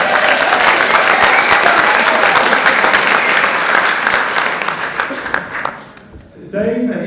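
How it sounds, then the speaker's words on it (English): A studio audience applauds a guest with dense, loud clapping for several seconds, fading toward the end as a voice begins speaking over the tail. "so let's have a brief round of applause for Dave."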